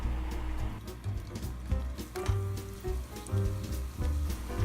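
Chickpea cutlets sizzle in a thin layer of olive oil in a pan, a steady close crackle with irregular pops and spits throughout.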